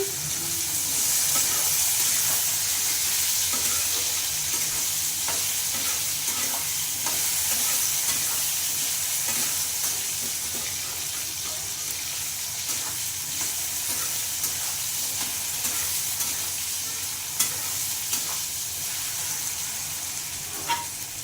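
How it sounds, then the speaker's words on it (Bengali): Potatoes fry in a pan with a steady, bright sizzle and hiss throughout, broken by occasional scrapes and clicks of stirring. "ভেজে নিচ্ছি"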